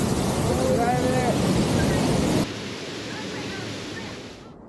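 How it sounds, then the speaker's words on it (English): A waterfall in Iceland roars from close behind the falling water, a dense wide hiss that is loud at first, then drops to a softer, steadier rush before fading out. "John, here we are behind the waterfall."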